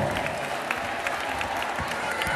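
A crowd applauds in a dense, steady patter of clapping at a Mother's Day celebration in a sports hall in El Seibo, heard at moderate distance and continuing throughout.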